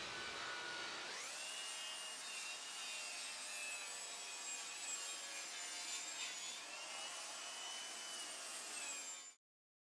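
Power saw cutting plywood sheets on an adjustable-height workbench, with a continuous high-pitched whining cut that starts abruptly, holds steady and close for several seconds, then stops suddenly.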